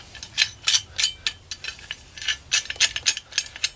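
A folding multitool shovel is loosened and folded: a run of small, close metallic clicks and ratcheting ticks in an irregular rhythm, quiet and alone.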